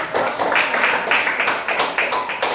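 Junior high students at SMP Negeri 3 Sowek applaud in their classroom, a brief run of fairly steady, close claps with soft, muffled strikes.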